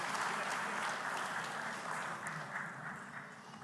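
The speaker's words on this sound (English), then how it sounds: "Please applause." Audience applause for a speaker at a live event, a steady spread of clapping at moderate distance that slowly fades over a few seconds.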